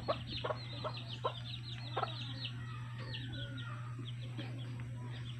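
Chickens cluck in short irregular bursts nearby, over a steady low electrical hum and faint background noise.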